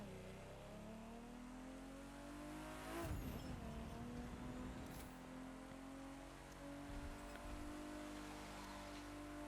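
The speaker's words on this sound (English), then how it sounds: "Let's see how this car is the first time actually driving it." A car driven in the racing game The Crew 2, its engine droning steadily, then revving up sharply with a gear change around the three-second mark before settling into a sustained mid-pitched hum.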